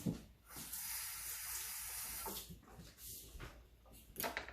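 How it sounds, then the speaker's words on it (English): Something rinsed under a running kitchen tap, a steady close hiss of water with a few clunks and knocks near the sink; no voices. "just going to rinse this"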